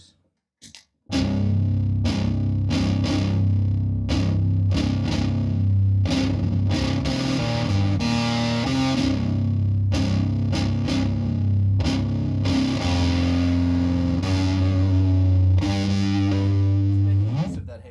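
Electric guitar played as a heavy riff through a bass-heavy distortion pedal, thick chugging chords with short gaps between strums, loud and close after a brief quiet start.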